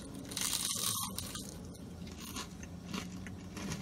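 A crunchy bite into a Jack in the Box panko onion ring, crisp crackling and crunching close to the mic, fading into softer chewing without talk.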